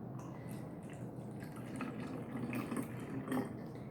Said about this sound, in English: we're going to pour the water into our empty jug containers